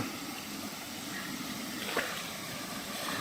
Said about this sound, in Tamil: நம்ம நவமலை மலைவாழ் மக்கள் குடியிருப்புக்கு பக்கத்துல ஓடுற ஓடை